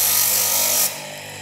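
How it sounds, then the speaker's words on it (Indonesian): Coarse 80-grit sandpaper rubbed against a handmade copper ring, giving a steady, close abrasive hiss that drops to a softer scrape near the end. "Kita amplas pakai nomor 80."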